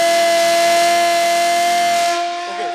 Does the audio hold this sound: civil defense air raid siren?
yes